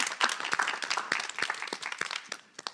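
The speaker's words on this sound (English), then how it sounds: "I know we just clapped, but why not clap one more time?" A live audience claps for a second round after a song at a heritage celebration, dense, steady applause with scattered sharp individual claps, fairly close, without talk.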